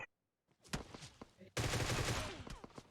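Rapid automatic gunfire in the mobile battle-royale game PUBG Mobile, a burst of clipped shots followed by a dense, sustained volley, moderately loud, with a voice talking over the game sound.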